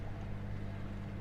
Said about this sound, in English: we're just running on the starboard engine